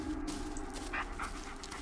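A dog in the Blair Witch video game pants and whimpers quietly in short breaths, nearby but soft, set against a steady low ambient rumble.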